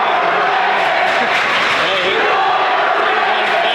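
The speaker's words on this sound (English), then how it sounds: "big crowd here for the Golden Rams tonight" Loud, dense crowd noise fills a high school gym during a Highlands at Knoch basketball game, a steady roar of cheering and clapping throughout with voices mixed in.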